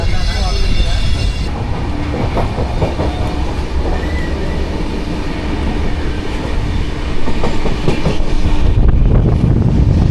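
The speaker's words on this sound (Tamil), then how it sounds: "இப்போதைக்கு வந்து டீசல் லோக்கோ தான் போயிட்டுருக்கு" Diesel locomotive train running near the Dudhsagar Falls route, heard from on board: steady loud rumble with rhythmic wheel clatter and brief squeals, continuous throughout.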